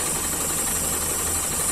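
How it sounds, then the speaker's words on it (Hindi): A Hyundai i10 engine idles roughly with a misfire, a continuous close mechanical rumble and clatter that stays steady throughout. "ये i10 है और ये गाड़ी बहुत ज़्यादा मिसिंग हो रही है। आप देख सकते हैं इसका इंजन बहुत हल रहा है"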